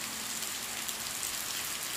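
Heavy rain falls steadily in the Serra da Ibiapaba near Ubajara, a dense, even hiss of drops on surfaces with no voices.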